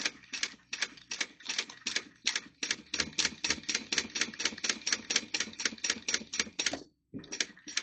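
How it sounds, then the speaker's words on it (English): A sewing machine stitching fabric along an edge for basting a lining: a rapid, even train of sharp mechanical clatters, close and clear, running steadily, then stopping briefly and restarting near the end. "we're just sewing along the edge at 1/8 of an inch"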